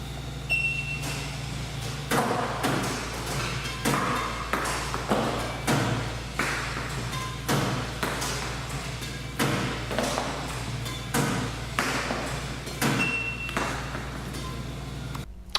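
A Kawasaki Lightning 8800 badminton racket striking a shuttlecock in a control test, a steady series of sharp close thwacks at roughly one-second intervals over a constant background hum.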